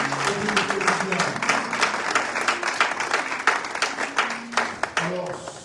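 A church congregation applauds to acclaim the word of God, a dense, steady wash of clapping that runs unbroken for several seconds, with voices mixed into the crowd noise.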